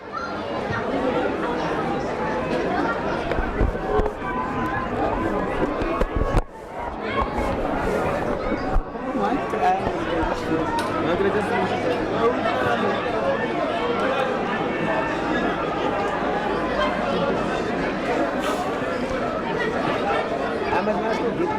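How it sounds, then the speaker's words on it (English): Rugby fans make a steady, dense crowd hubbub with overlapping chatter and occasional shouts at a club match between SK Walmers and Durbell. The noise is loud and continuous, with one brief dip near the middle. "we apologize for any background noise there from the fans here"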